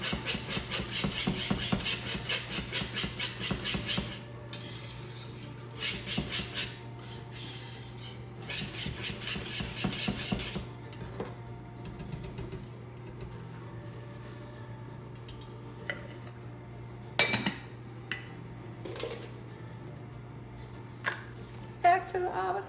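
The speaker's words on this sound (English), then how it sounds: "you want to keep stirring it" Food is stirred in a pot, giving rapid metallic scraping and clinking that runs busily at first, then thins into scattered taps and knocks over a low steady hum, with a voice talking throughout.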